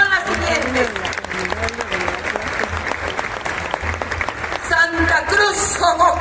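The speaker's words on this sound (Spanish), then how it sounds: "le brindemos un aplauso a estos jóvenes que vienen de esas comunidades" Loud crowd applause for young people from Oaxacan communities at the Guelaguetza festival, with sustained clapping and cheering throughout and voices and a loudspeaker announcement mixed in over it.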